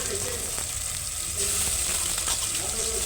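Ginger garlic paste sizzles and fries in a pan while being stirred, a steady close hiss with faint scraping as it is mixed in, cooked after onions for a brinjal and potato curry.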